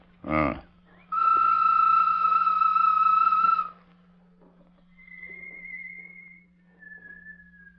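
A loud, steady whistled tone held for a few seconds, then two softer whistled notes follow, like a human imitating a bird call, with a brief rustle before.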